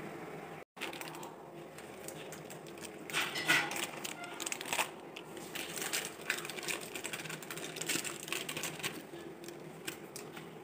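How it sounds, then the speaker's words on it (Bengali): Maggi instant noodle cakes snapped and crumbled by hand in a home kitchen, giving close, dry crackling and crunching in irregular bursts that thicken after the first few seconds. "ম্যাগিটা একটু ভেঙে দিব।"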